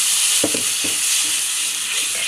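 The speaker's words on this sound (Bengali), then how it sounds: "মশলাটা এখন হালকা মতন জল দিয়ে কষিয়ে নেব" Ground spice masala of red chilli, coriander and cumin powder frying with a splash of water in a pan for kofta curry, a steady close hiss with a few soft stirring scrapes.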